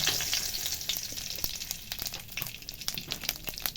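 Cumin seeds and bay leaf crackle in hot oil, a close, lively sizzle full of small pops and spits that fades slightly toward the end, with no speech.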